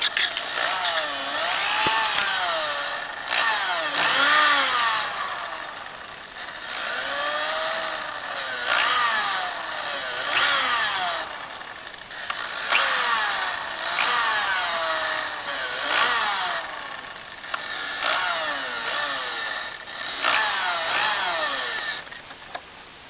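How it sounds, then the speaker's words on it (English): A power drill whines close by, its motor pitch rising and falling in repeated bursts as it bores into a wooden 4x4 post. "I'm just going to drill into the 4x4 as well."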